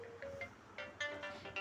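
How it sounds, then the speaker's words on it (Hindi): Alarm ringtone playing on an Oppo F11 phone, a soft repeating melody of bright chimed notes heard faintly and alone. "आप कोई भी रिंगटोन सेट कर सकते हैं, जो भी आपको सही लगे अलार्म पर।"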